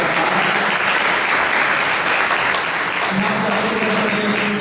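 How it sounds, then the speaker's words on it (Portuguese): Loud, sustained applause for Padre Maurício at a theological café event, a thick crowd of clapping hands filling the whole stretch, with faint voices mixed beneath. "Então também eu peço uma salva de palmas para o Padre Maurício"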